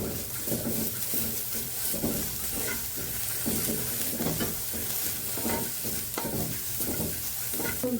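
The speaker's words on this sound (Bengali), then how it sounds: "দশ থেকে 12 কোয়া রসুন আমি দিয়ে দিচ্ছি।" Ten to twelve garlic cloves frying in a pan for a cabbage-leaf mash, a steady close sizzle with rhythmic stirring scrapes throughout.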